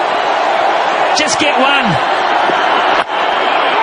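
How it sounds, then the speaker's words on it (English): A stadium cricket crowd roars on its feet as Brendon McCullum reaches his T20 century against Australia, a loud, unbroken wall of cheering with a commentator talking over it. "The crowd's going nuts here."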